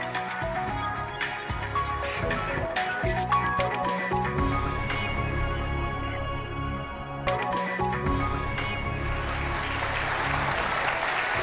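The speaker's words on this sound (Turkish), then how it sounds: "Bir de o alkış azdı yahu." A television game-show studio audience on Kelime Oyunu claps continuously, a brisk sustained round of applause that briefly dips midway and then swells again.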